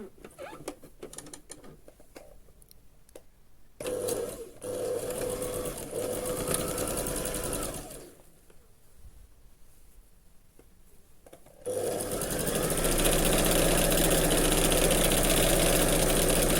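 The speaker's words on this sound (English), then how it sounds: "here I'm going to stitch my darts first, and I'm just going to hold this single layer of fabric" A sewing machine stitches darts on a single layer of dress fabric, whirring in stop-start runs close by and finishing in a louder, steadier stretch.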